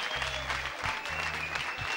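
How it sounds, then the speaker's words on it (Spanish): Studio audience applause opening a Spanish-language alternative music TV programme, two bursts of clapping with a brief break between them, moderately loud and steady with a low hum underneath and no talk. "Aplausos, por favor, chicos, que arranca el programa"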